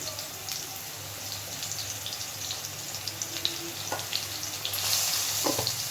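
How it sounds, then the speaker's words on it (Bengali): Potatoes fry in a pan in a steady, continuous sizzle with a few scraping stir strokes and a low hum behind, close and fairly loud, swelling slightly near the end. "একটু ভালোভাবে আলুটা এবার ভেজে নেবে"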